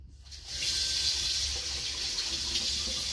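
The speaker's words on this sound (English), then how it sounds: "And I'll wash this stuff up real quick." Water runs from a kitchen tap in a steady, close gush as dishes and a knife are washed up at the sink, with no talk.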